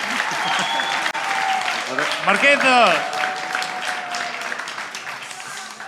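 Loud audience applause at a live comedy show at a festival fills the room while a voice calls out over the clapping.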